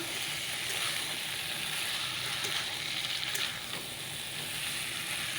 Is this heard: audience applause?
no